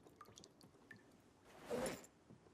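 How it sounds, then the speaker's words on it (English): A water bottle being filled in the Project Zomboid video game, a short soft burst of flowing, gurgling water rising and fading, with faint scattered clicks around it. "Let's make sure we fill our water bottle"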